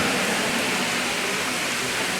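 Steady rain falls throughout, a dense even hiss spread wide and continuous with no pauses, no thunder and no voices.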